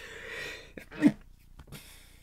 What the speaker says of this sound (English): I can feel a sneeze coming along right now, folks.